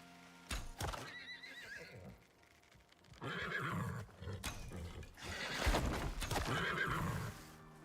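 Neighing and whinnying from a horse-like alien creature in the survival game Icarus, several loud calls in bursts, with hoof-like clops and a growling roar mixed in.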